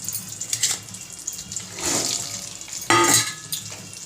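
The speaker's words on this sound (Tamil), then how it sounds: "இங்கே வெங்காயமும் வரமிளகாவும் இப்போ எடுத்து போட்டுரும்" Onion and dried red chilies drop into hot tempering oil already holding cumin, pepper, mustard seeds, lentils and curry leaves for sambar, giving a crackling hiss that swells into two loud sizzling bursts.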